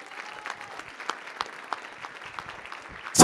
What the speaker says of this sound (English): Give Jesus a hand clap.